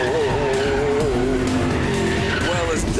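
A Lexus IS-F at full throttle on a race circuit, shifting up into fifth gear on the main straight near 220 kph and 6,500 rpm, its engine a loud continuous rising roar with tire noise beneath.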